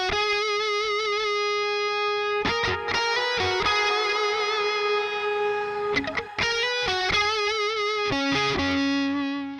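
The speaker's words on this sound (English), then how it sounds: "there was a much more natural decay to the delay and reverb rather than them just cutting out" Electric guitar run through a Neural DSP plugin with delay and reverb, ringing sustained notes and chords that blend into a lush wash, trailing off naturally at the end rather than cutting out.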